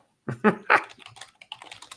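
Typing on a computer keyboard: a quick, uneven run of close clicking keystrokes, louder at first and then lighter taps, with no talking.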